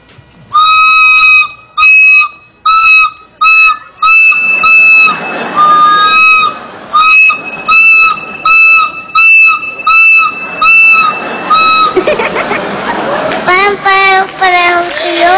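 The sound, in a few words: small flute-like wind instrument played with finger holes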